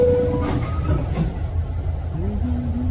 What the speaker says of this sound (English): From here on the 2 train. Train that's heading to Manhattan